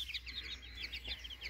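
A brood of chicks at a poultry farm, rapid high peeping calls repeating close by in quick overlapping bursts, with a low background hum and no talking.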